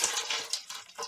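Liquid, a couple of litres of juice, poured into a pot of dissolved sugar water to make orangeade, giving a steady, soft splashing trickle with small surges, close and fairly quiet, with no talking.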